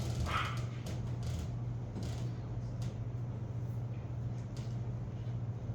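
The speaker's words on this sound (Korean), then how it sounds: "저 아이 잘 안 짖는데 요새 좀 많이." Indoors, a dog barks and yips repeatedly in short irregular bursts over a steady low hum, fairly close and loud, with no talking.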